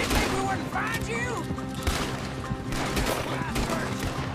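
Gunfire in Red Dead Redemption 2, a handful of sharp shots popping at intervals under a steady music bed, with voices talking over the exchange.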